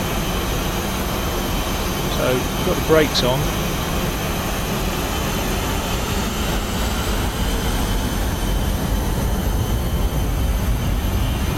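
Airbus A320 jet engines in the X-Plane 11 flight simulator hum in a steady, continuous drone with the brakes set, a brief rising tone near the start, while someone talks over it.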